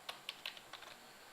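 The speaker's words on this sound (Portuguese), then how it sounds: "digitando o CPF," A few quick keystrokes on a computer keyboard, close and fairly quiet, as an ID number is typed in an office setting.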